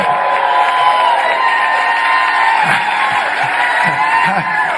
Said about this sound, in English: people stand and applaud at the start